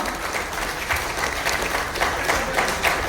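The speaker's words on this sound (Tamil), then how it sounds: "எல்கே அக்ஷய் குமார், ஒரு மிகப்பெரிய கைத்தட்டல் கொடுத்துடலாம்" Crowd applause at a film success celebration event, a dense continuous roar of many hands clapping together, fairly loud and steady with slight swells.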